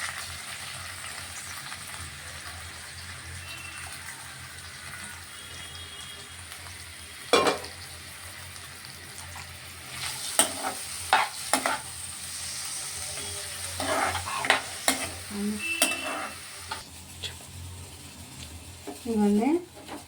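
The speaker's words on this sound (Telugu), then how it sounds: "ఎండ్రీలు ఇందులో వేపుతున్నానండి" Dried prawns and onions are fried in a pan for an Andhra-style prawn and okra curry. A soft, steady sizzle runs under occasional stirring scrapes and clatters, and a voice is heard faintly at times.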